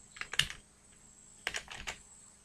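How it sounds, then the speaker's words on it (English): A computer keyboard is tapped in two short bursts of quick, close keystrokes separated by a pause, with no voice over it. "I am changing this directory to F directory, changing the directory to Java folder. In that Java folder, I am compiling"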